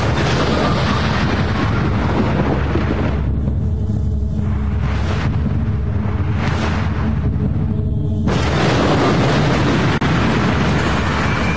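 The Fat Man atomic bomb explosion, a massive, sustained roaring rumble that fills the whole clip, briefly thinning mid-way before surging back to full loudness.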